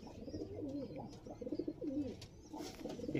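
A border pigeon coos softly in a run of low, rolling calls that repeat with short gaps, faint and close, against a quiet room background.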